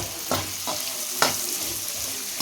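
A spatula tosses and scrapes chicken egg fried rice in an oily pan, with a few sharp scraping strokes over a steady sizzling hiss.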